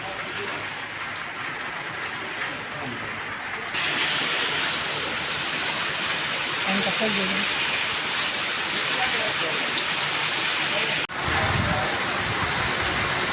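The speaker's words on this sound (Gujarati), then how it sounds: "વરસાદ આવી ગયો અહીંયા ઊભા રહી ગયા પતરા પાસે" Steady rain pours down on metal roofing sheets in a dense, continuous hiss that grows louder partway through, with faint voices murmuring underneath.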